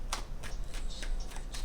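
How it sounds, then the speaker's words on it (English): Tarot cards being shuffled by hand, quick crisp riffling bursts repeating several times close up, with no speech. "3 more shuffles"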